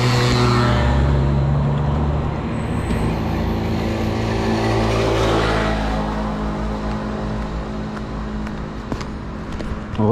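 Steady, loud road traffic on a busy street in Mamoudzou, Mayotte, with car engines droning and vehicles passing close by continuously throughout, no talk over it.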